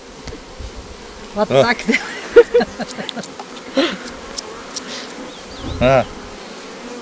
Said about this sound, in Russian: Их пчел надо вот так стряхивать.